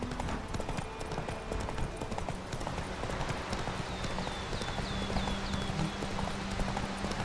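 Roach, Geralt's horse in the Witcher 3 video game, trots with a steady, rhythmic clip-clop of hooves over a continuous background of game ambience and music.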